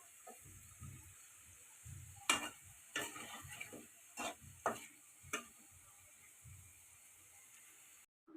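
A potato snack fries quietly in a pan over a faint steady sizzle, with several sharp clicks and scrapes from stirring clustered near the middle; close but soft, with no talking.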